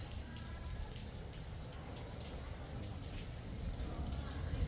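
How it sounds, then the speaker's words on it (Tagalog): Steady soft patter of light rain, a continuous gentle hiss with scattered drips, growing slightly louder toward the end. "Kahit na umuulan."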